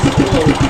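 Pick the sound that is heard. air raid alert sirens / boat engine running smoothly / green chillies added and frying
boat engine running smoothly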